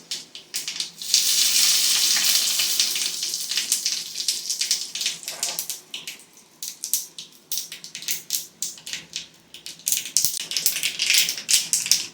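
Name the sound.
mustard seeds, cumin, asafoetida, curry leaves sizzling in oil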